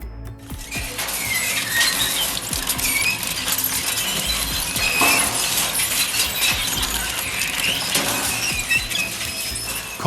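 An industrial shredder tears through a steel plate, producing continuous loud grinding with metallic screeching, cracking and crunching bursts that stay harsh and dense throughout.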